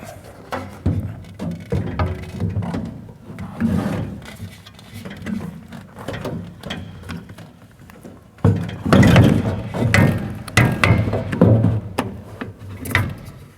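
A filter being worked up over the filter paddles while fitting a Laguna Tools P|flux1 AutoClean retrofit kit: irregular soft thuds, rubbing and knocks, fairly close, getting louder and busier near the end, with no talk.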